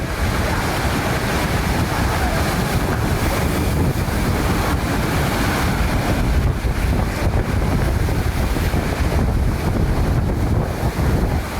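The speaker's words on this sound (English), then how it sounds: "Violent storm waves crashed into the harbor and slammed boats into each other" Violent storm waves pound a marina harbor as powerful winds roar, a dense continuous loud wash of surf and gusting wind noise with no voices.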